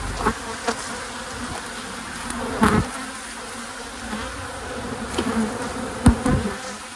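Honey bees buzz around an open hive with added honey supers, a steady insect drone with a few louder passes close by.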